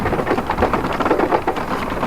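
Heavy monsoon rain pours down on a road trip in South Goa, a dense, loud, continuous roar of rain with a low rumble underneath, close and steady throughout with no voices.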